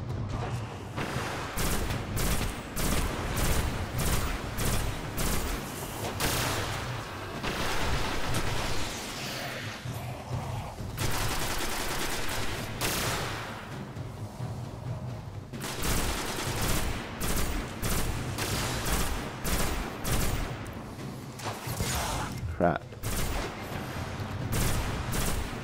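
Rapid video game gunfire from Destiny, dense bursts of automatic shots with brief pauses, loud and continuous throughout.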